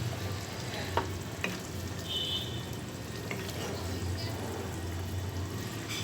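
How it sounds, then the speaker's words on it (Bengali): Pointed gourd frying in a pan as it is stirred, a steady low sizzle and scrape with a couple of brief utensil knocks, close and even throughout. "পটলগুলোকে আমি নেড়ে চেড়ে দিচ্ছি।"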